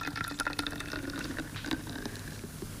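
Yeast mixture pours into a bottle for an elephant toothpaste reaction, a close, continuous bubbly liquid fill with gurgling splashes that fade slightly toward the end.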